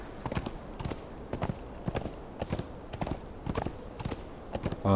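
Slow, steady clip-clop of horse hooves walking on hard ground in the video game Conan Exiles, evenly paced and moderately close, with no talking.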